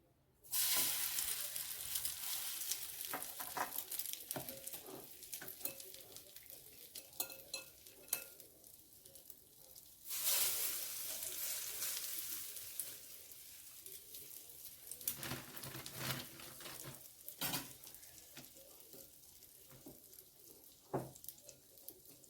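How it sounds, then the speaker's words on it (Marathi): Slices of bread dipped in an egg mixture shallow-fry in oil and sizzle quietly and steadily. A spatula clinks and scrapes now and then, and there is a louder burst of frying partway through. "आता आणखीन काही ब्रेड स्लाईस आपण असेच शॅलो फ्राय मस्तपैकी करून घेऊया"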